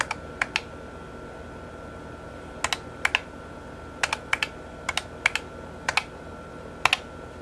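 Numbers keyed into a calculator, crisp doubled clicks of button presses spaced out in small groups, close and clear over a faint steady hum, with no talking.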